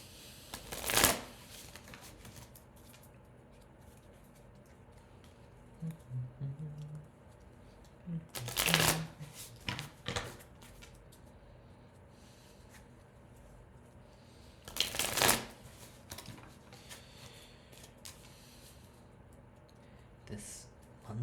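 Tarot cards are shuffled by hand in three distinct bursts of riffling, close and crisp, with quiet handling rustles in between against a faint room background.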